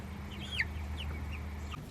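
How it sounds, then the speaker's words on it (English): Chickens cluck softly on a farm, a few short calls and one sharper squawk rising over a steady low background hum, fairly faint and without talk. "the chickens"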